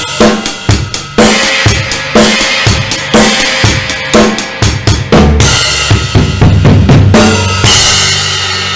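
A full drum kit plays a groove: snare and hi-hat backbeat, then China cymbal hits, then a fill into loud crashes. The playing is close and forceful, with steady kick and snare accents and no voices.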